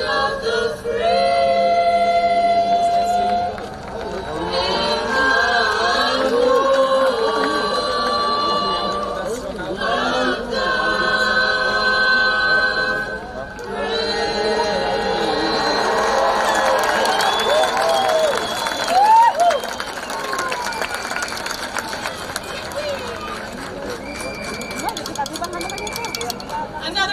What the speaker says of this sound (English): Another round of applause for our Eastside Senior Dance Choir students